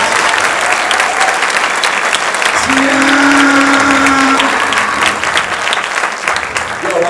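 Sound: audience applause

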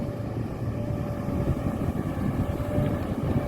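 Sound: Komatsu PC200-8M0 excavator six-cylinder engine roaring

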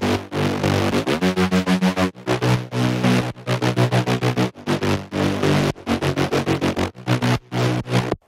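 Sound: synthesized mid bass in a remix project

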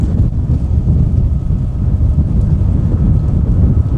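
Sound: strong wind blowing

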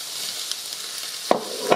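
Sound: ham cubes and onion frying in a pan

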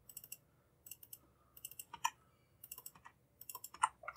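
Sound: pressing a key on a computer keyboard

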